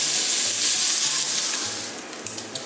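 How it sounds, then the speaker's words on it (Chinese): Pork belly sizzles in a pan as its fat renders, a steady close frying hiss with a low repeating hum beneath and a few small pops near the end. "来把五花肉煎出油"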